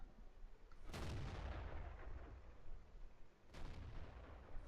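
Main gun of an AT8 tank destroyer in a tank battle video game firing two heavy booming blind shots about two and a half seconds apart, each blast trailing into a rumbling decay.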